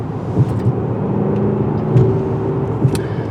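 A 2021 Mercedes-Benz S580 4MATIC driving in Sport Plus mode, a steady low engine and road rumble from inside the cabin with slight surges, continuous and fairly loud.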